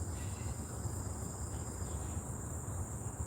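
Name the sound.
cicadas buzzing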